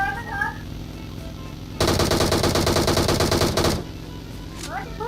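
A loud automatic burst from a rifle in PUBG Mobile rattles off rapidly for about two seconds, an even fast stream of shots between quieter in-game sounds.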